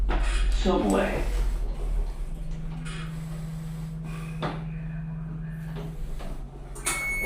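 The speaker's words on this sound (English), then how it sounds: "Doors opening." Sliding train doors at a UK station open with a clattering rush followed by a steady electronic hum and mechanical sounds, fairly close, ending in a short sharp knock.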